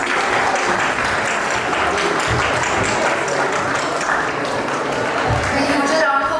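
A crowd at the St Joseph's College Nainital Model UN awards claps for a commendation, a continuous loud roar of hands that fills the room and holds steady to the end.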